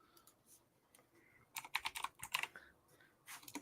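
Quiet keyboard typing: a few scattered keystrokes, then a quick burst of rapid clacking, followed by a couple more taps.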